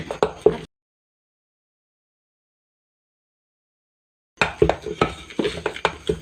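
Cooked tapioca (kappa) is stirred in a pot, with a short burst of clattering scrapes and knocks, a long silent gap, then a busier run of metallic stirring clatter.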